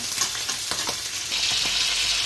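Hilsa fish sizzles steadily in hot oil in a pan, a dense crackling hiss with occasional sharper spits and pops throughout, close and fairly loud, with no voices.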